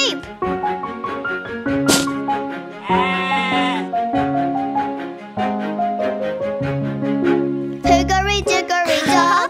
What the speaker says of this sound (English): Oh, a sheep!